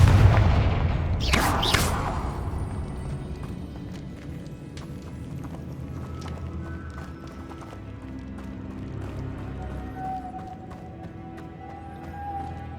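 A Confringo blasting spell explodes in the Hogwarts Legacy video game, a sharp loud blast near the start that trails off into a rumbling decay and quieter game ambience.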